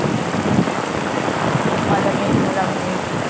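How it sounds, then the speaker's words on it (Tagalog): Heavy rain pours down steadily outdoors, a dense, loud, unbroken hiss of drops with no pauses. "Yan ang ulan."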